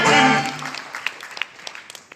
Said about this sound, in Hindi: तो सबसे पहले डी एक्शन के लिए एक जबरदस्त ताली होना चाहिए।